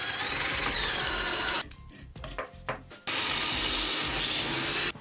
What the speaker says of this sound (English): I'm going to be drilling them up on both sides